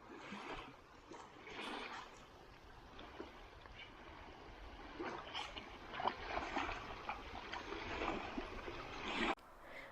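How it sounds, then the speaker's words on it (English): Small waves lap steadily at the shore of a reservoir lake in New Jersey, with a broad hiss of wind layered over the gentle, continuous splashing at close range. "Get the sound of the waves without being on the ocean."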